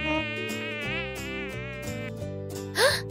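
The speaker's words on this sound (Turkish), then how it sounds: "Ken, sinekleri uzaklaştır." Flies buzz in a continuous wavering drone that rises and falls in pitch, with a brief sharper whine near the end and no talking.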